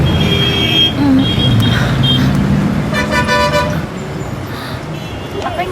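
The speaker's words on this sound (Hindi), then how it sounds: "ऊपर से शिट ट्रैफिक।" Busy road traffic with a car horn tooting several times in short bursts, engines rumbling close by, and faint voices mixed in.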